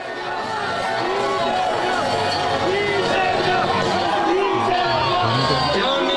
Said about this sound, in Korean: 재판부의 판결문 낭독을 읽고서 환호하고 있는 모습인데요